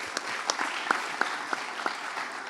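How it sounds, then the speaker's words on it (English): A civic gathering on community policing gives the Houston mayor a short round of applause: sparse, scattered claps stand out over a thin, quiet bed of clapping. "Let's give Mayor Parker a round of applause."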